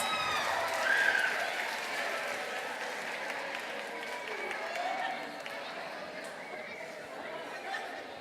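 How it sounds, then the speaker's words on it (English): An FCCLA conference audience applauds itself, a broad wash of clapping mixed with crowd chatter and some cheering that gradually thins out. "give yourself another big round of applause"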